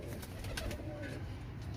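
Faint, low coos from rare old-breed red-eyed pigeons on a rooftop in inner Lahore murmur over a steady background rumble, soft and continuous.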